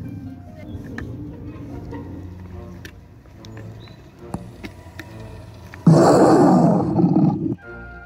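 An animatronic dinosaur lets out a single loud, harsh roar near the end, after a stretch of quieter background noise and rustling.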